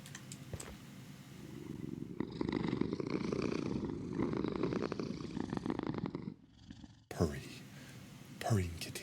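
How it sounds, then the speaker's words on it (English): Well-fed kittens purring in a video game, a soft continuous rhythmic purr in the middle stretch, with a voice talking before and after. "Purring kittens. Well-fed purring kittens."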